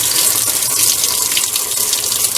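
Water gushing from a tap fed by a tankless water heater, a loud, steady close rush with no voices over it.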